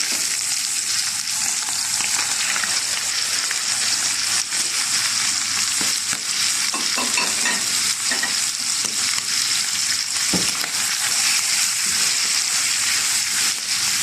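Alexandrian-style liver fries in a hot pan while being stirred, giving a loud, steady, continuous sizzle with scraping stir strokes throughout and no talking.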